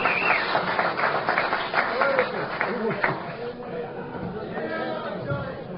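An audience at a traditional Irish music festival weekend applauds a musician from Limerick. The clapping is moderate and steady at first, then thins out and fades as a voice talks over it.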